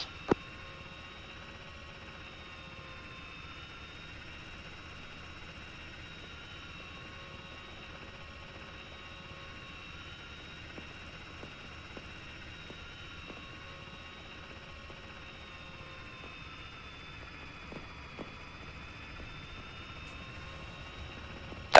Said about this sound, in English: That's an enemy helo.